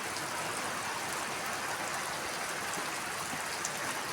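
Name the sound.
light rain shower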